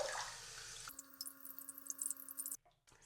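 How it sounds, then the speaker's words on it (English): Running water pours over Monstera tissue culture roots during a rinse, a short splashing flow with drips and light handling clatter, close and moderately quiet before the water stops. "that was my third rinse, and I'm gonna do one more just in case"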